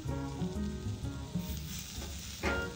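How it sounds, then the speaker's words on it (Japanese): Fish fillet skin side down frying in an unseasoned frying pan on a balcony day-camp setup, a steady close crackling sizzle with small popping bursts. "皮面が焼けたらひっくり返します"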